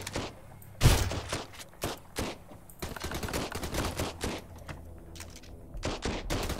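Gunfire in the survival game Sunkenland: a loud, close report opens a long run of sharp shots, some single and some in quick bursts, firing irregularly throughout.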